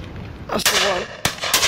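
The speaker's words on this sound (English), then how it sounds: "He shot it anyway." A shotgun fired at a pheasant and partridge shoot outdoors: a sharp loud report, then a second shot about half a second later, with a brief hum between them.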